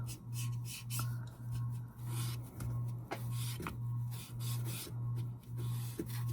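A finger dauber rubs distress ink around the edge of a rusty cake pan in quick, regular scrubbing strokes, soft and close, over a faint steady hum.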